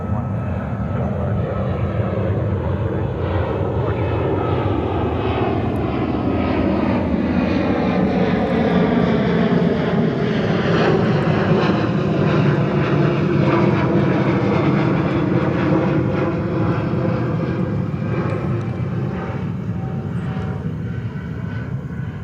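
A Delta airliner taking off from runway 13 right at JFK, a loud sustained engine roar with sweeping tonal whine rising and shifting as it accelerates, continuous and close.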